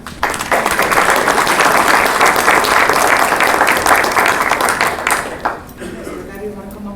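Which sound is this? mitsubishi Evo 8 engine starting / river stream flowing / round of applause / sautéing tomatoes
round of applause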